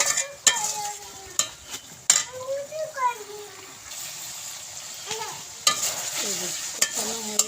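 Bitter gourd and prawn curry being sautéed in a pan, a soft sizzle broken by sharp utensil knocks and scraping stirs at irregular intervals, with a voice talking faintly in the background.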